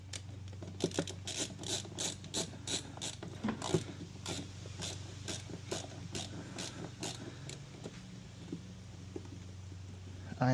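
A hand ratchet turning a screw during a Tesla upgrade install, giving a long series of rapid, regular clicks up close, with a steady low hum underneath.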